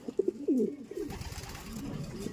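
A racing pigeon coos softly a few times up close, with low rolling calls and light rustling in between.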